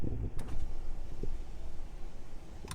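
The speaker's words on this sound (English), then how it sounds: "And you got the sliding rear window." Power sliding rear window on a 2020 GMC Sierra 1500 Denali crew cab, a steady electric motor whir running for a few seconds inside the cab, with a couple of faint clicks at the start and end.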